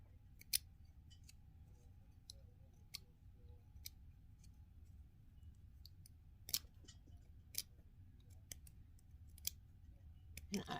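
An X-Acto knife trims excess flashing from a plastic chess piece of a two-part set, giving quiet, sparse snipping clicks scattered over a low hum, close by and faint.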